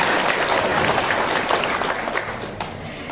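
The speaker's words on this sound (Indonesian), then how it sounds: "Tepuk tangan" An audience at a community gathering breaks into hearty applause, dense clapping close by that holds steady and then tapers off over about three seconds.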